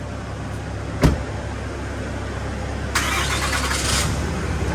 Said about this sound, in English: I'm just going to pull the truck out from under it and then we'll just set it down.